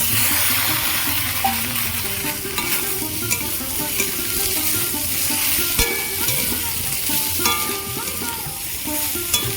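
Eggplant pieces fry in hot oil with garlic, onion and chilli, a loud, steady sizzle with continuous stirring and occasional clinks of a spatula against the pan, close up and with no voices.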